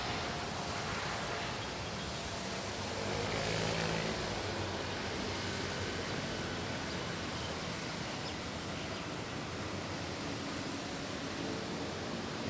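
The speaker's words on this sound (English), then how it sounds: "Singapore Airlines taking off an A350." A Singapore Airlines Airbus A350-900 taking off from Manila International Airport during a typhoon, heard as a faint, distant, broad roar of jet engine rumble blended with wind noise, steady throughout with no voices.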